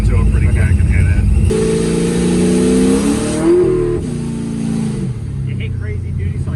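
A boosted small-block Chevy engine in an S10 pickup revs hard at throttle, a loud rising engine roar with pitch climbing and falling across several seconds, close by, with people talking over it.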